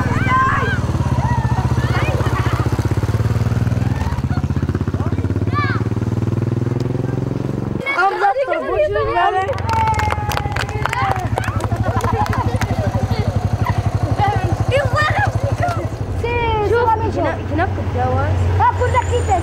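A motorcycle engine runs steadily throughout, with a brief rev-like burst partway, under a background of schoolchildren's chatter and street noise outside a school.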